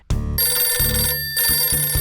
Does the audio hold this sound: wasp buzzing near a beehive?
no